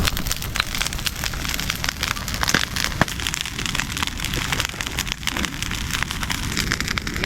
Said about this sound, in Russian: Смотри, уровень костра вон доходит.